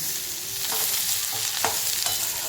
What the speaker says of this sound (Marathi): त्याला आपण व्यवस्थित परतून घेऊया